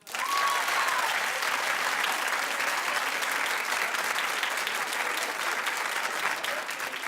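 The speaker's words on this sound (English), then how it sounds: "Clap if you're with me." A comedy show studio audience claps in a sustained, even roar of applause at close range, steady in loudness from start to finish with no voices rising above it.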